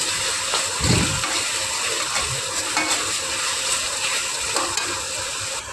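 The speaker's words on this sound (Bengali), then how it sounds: "গাইস দেখেন মাছ রান্নার জন্য মশলা কষাচ্ছি, কষাই নিচ্ছি ভালো করে।" Spices sizzle and are stirred in a hot pan while being fried down for a fish curry, a steady loud sizzle with scraping stirs close up and no talk.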